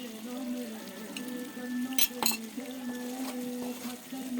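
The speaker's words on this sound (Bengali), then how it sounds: "এবার চিনি দিয়ে একটু 5 মিনিট নাড়বো।" Achar being stirred with sugar in a pan, a steady close sizzle with faint scraping and clinking of the spoon throughout, no voices.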